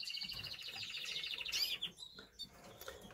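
Pet breeding canaries of a Spanish breed chirp in their cages, with a close, rapid trill of high tweets at first, followed by scattered short calls and light rustling.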